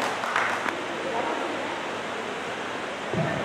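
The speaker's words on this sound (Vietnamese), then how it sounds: "ở nhà dành cho chị một tràng pháo tay" A club music-night audience gives a steady wash of applause for a singing couple, a hissing, continuous clapping texture at moderate volume.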